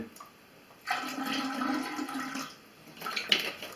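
Water mixed with white vinegar is poured into a washing machine drain, a close, rushing gush that runs for about two seconds and then trails off with a smaller splash.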